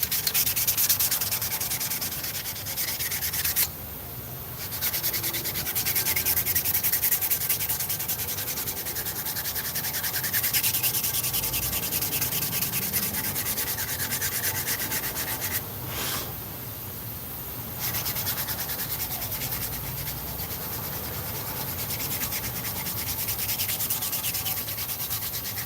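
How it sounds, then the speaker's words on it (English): Sandpaper scrubs a surface on a Dodge Ram in steady, raspy back-and-forth strokes, close and continuous, pausing briefly twice before resuming. "Let me rough this up with some sandpaper and see how bad it is."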